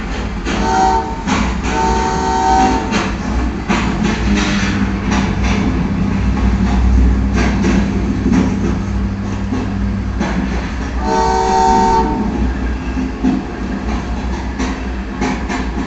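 A freight train departs, rumbling past with a rolling, clattering drone, and two long horn blasts sound, one near the start and another later on.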